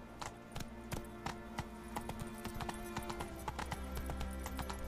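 Roach, Geralt's horse in the video game The Witcher 3, trots at a steady pace, with hoof clip-clops repeating in a close, even rhythm over a low ambient game bed for about five seconds.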